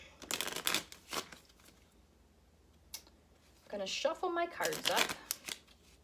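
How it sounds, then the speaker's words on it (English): Playing cards being shuffled in two quick bursts of riffling and flapping, separated by a short quiet pause. "I'm gonna shuffle my cards up"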